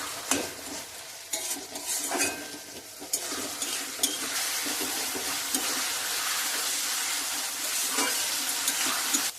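Ginger garlic paste, turmeric and sugar fry in a pan while a utensil stirs and scrapes, giving a continuous sizzle broken by irregular clinks and scrapes, close and with no talking.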